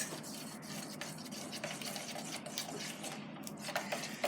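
Homemade slime is stirred and mixed in a container, a continuous wet squelching and scraping texture, close and moderately quiet, with no talking.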